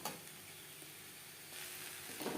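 Beans and grated coconut sizzle softly in a wok over a gas flame while being stirred, a faint, even crackle with light scraping near the end.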